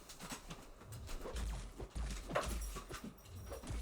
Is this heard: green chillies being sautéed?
no